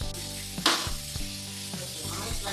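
Meat pieces sizzle in a hot frying pan as they brown, a steady crackling hiss with a few scraping and clattering stirs, close and moderately loud.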